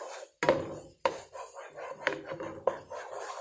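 A wooden spoon stirs a cornstarch mixture in a pot on the stove, giving four distinct knocks and scrapes against the pot at an uneven pace, close and clear with no talk.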